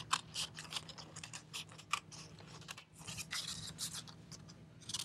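Quiet, rapid snipping of scissors cutting through paper, a string of close, crisp cuts with brief pauses.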